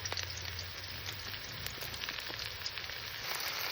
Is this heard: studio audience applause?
no